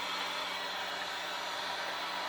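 A vacuum cleaner runs inside a vintage RCA Victor radio cabinet, a steady, hissing motor drone held at an even level, close and unbroken.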